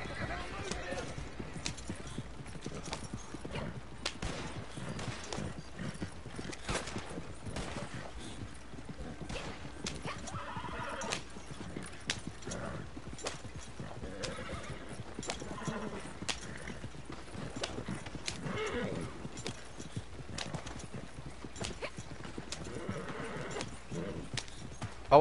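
Horse hooves pulling a wagon in Red Dead Redemption 2, a continuous rhythmic clip-clop at a steady trot with occasional neighs, mixed with faint in-game background sounds and talk.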